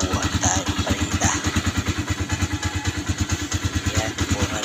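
A motorcycle engine idles while warming up, close by, with a steady rapid thumping putter and light mechanical clatter that holds an even rhythm throughout.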